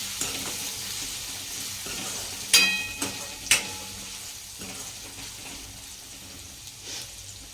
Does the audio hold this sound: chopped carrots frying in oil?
yes